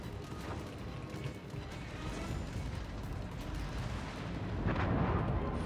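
Heavy battleship guns fire in the naval game with the German battleship Großer Kurfürst, heard as a low rumbling boom that swells toward the end over a constant dense roar of game noise.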